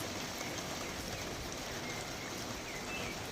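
Steady rain pours over a flower garden on a warm evening after a hot day, a dense, even hiss of drops that stays constant and fairly close throughout, with no voices.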